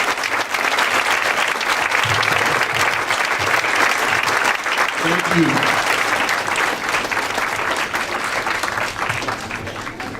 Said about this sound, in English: Let's give all of these individuals a nice round of applause.